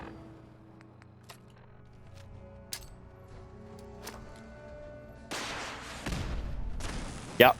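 Enemy gunfire in Fallout 4 on survival difficulty: a few scattered sharp cracks early on, then a louder, dense burst of shots and blasts toward the end.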